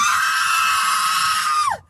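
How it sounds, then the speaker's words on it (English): A person lets out one loud, sustained scream for nearly two seconds that breaks off abruptly, close and piercing. "Why are you screaming?"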